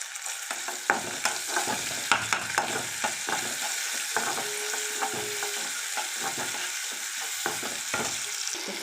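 Onion, dried red chilies and asafoetida frying in a pan while being mixed, a steady sizzle broken by frequent scraping stirs and clinks of the spoon, close and moderately loud, with no talking.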